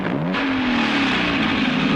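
A motor vehicle pulls away with its engine note climbing and then holding a steady drone, loud and close for a couple of seconds.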